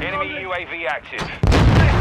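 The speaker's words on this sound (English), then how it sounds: "I'm taking enemy fire." Heavy gunfire and explosions erupt loud and close in a Call of Duty: Modern Warfare II team deathmatch, following a stretch of radio-style voice chatter.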